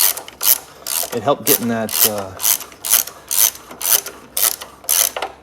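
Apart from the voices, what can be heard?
ratchet wrench removing exhaust manifolds from VW Type 4 engine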